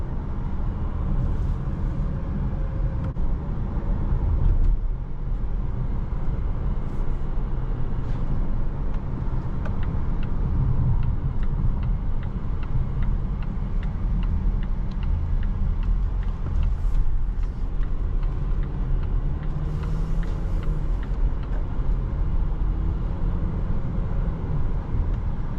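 A 2026 Volvo XC60 B5 Core accelerating, a steady broadband hum of engine and tyre-on-road noise filling the cabin throughout, with no talk.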